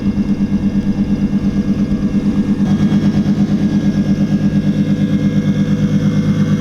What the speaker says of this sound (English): Yeah, that pump's pretty loud.